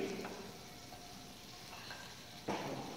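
Mashed, sieved potatoes cooking in melted butter in a pan give a soft, steady sizzle, faint and close, with a couple of light stirring scrapes and a slightly louder scrape near the end.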